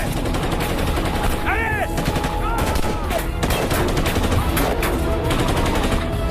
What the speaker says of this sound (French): Ils nous tirent dessus à la mitrailleuse.